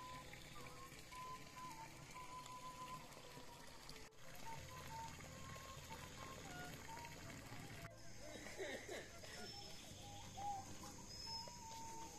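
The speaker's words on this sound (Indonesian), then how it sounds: "burung-burung jam segini berkicau" Birds chirp and call in a foggy, cold highland village in the early morning, scattered short tweets at moderate distance over a low steady background, with faint talk at times.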